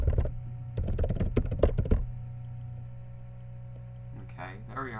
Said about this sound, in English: I'm going to type in my YouTube link